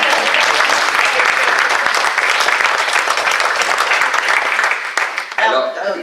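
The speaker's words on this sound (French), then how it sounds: "Les applaudissements." An audience at a literary games evening applauds steadily, a dense, loud wash of clapping that runs for about five seconds before thinning out and fading near the end.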